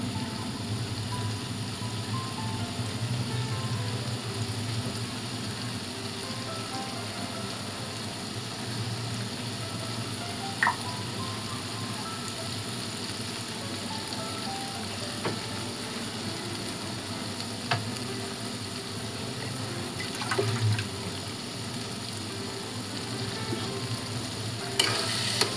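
Konkani-style chicken liver masala in a pan after water is added, sizzling and frying steadily with a dense, even hiss and occasional faint clinks.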